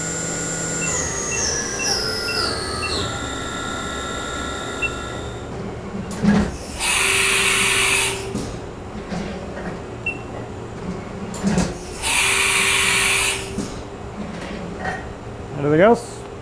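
A CNC machine spindle ramps up in steps to 10,000 RPM, a rising whine climbing in stages before settling into a higher steady tone, followed by two short bursts of loud hissing, with someone talking throughout.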